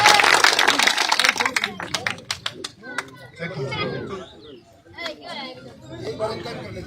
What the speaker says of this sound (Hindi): जोरदार तालियां भाई देवेंद्र कादियान जी के लिए।